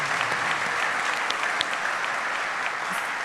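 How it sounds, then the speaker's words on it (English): A university convocation audience applauds the marching band with dense, sustained clapping, a steady, fairly loud patter of many hands with a few sharper claps standing out. "Let's applaud the band."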